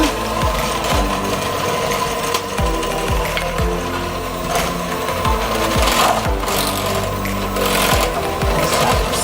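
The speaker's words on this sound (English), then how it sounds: "I'm going to mix the almond essence with the cheese" Almond essence is mixed into cheese for a toasted almond cream cake, giving loud, rhythmic mechanical churning that pulses continuously and close by.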